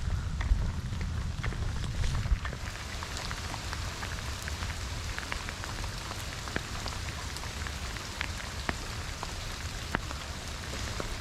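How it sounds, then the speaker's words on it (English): Heavy rain pouring down outdoors at a park, a dense steady hiss of drops hitting the ground with scattered closer splats, moderately loud and constant with no voices. "Raining pretty good now"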